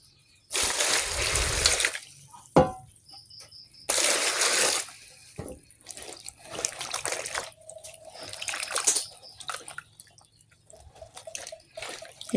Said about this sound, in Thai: เดี๋ยวล้างก่อน